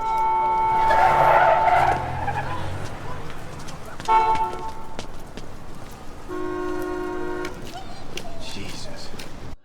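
A car hits a dog and speeds away at night in a TV drama scene, with tires skidding and squealing and tonal horn-like blasts over engine noise. Voices speak over parts of it.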